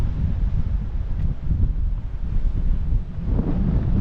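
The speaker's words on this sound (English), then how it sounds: "The wind here is very strong." Strong storm wind on the rocky Xghajra coast of Malta buffets the microphone in a continuous heavy, low roar with gusting surges and no talk.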